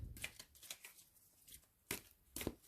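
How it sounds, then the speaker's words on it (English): Soft, irregular riffling and slapping of oversized tarot cards, quiet and close, with a few sharper snaps near the end. "I am shuffling, guys. They're just huge cards."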